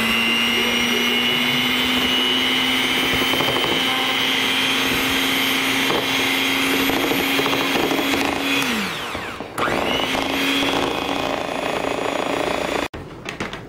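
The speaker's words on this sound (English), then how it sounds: "We'll add the granulated sugar. It's my hand mixer." A hand mixer beats eggs and granulated sugar with a loud, steady motor whine that runs without a break, briefly drops in pitch as it slows, then spins back up before clicking off.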